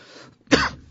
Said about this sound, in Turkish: Öksürün.